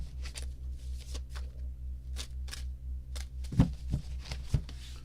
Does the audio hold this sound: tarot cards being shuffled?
yes